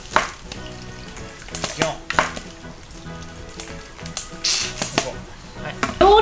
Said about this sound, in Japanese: 日本酒でね、ニンニクを蒸すの